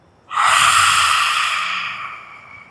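A single forceful exhale through the mouth during a yoga breathing exercise, a loud breathy rush that starts abruptly and fades over about two seconds, close and alone.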